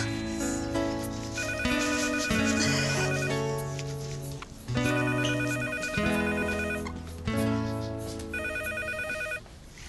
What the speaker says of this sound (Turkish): Ben bir Zeynep'in evini arayayım o zaman.